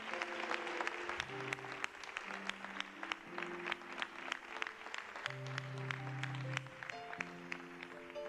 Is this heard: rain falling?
no